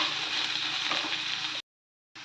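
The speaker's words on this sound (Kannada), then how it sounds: "ಇದನ್ನೆಲ್ಲ ಫ್ರೈ ಮಾಡ್ಕೋಬೇಕು." Curry leaves and finely chopped onion fry in a pan for a prawn dish, a steady soft sizzle that runs for about a second and a half, then cuts to silence before resuming briefly.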